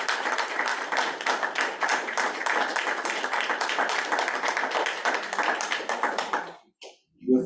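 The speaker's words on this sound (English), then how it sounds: "Give a big round of applause to Stephanie" Meeting audience at a ratepayers' town hall claps steadily for about six and a half seconds, a dense even patter of many hands that stops abruptly, followed by near silence and a brief voice.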